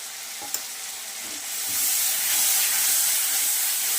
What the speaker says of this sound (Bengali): এবার আমি এই টকটা ঢেলে দেব।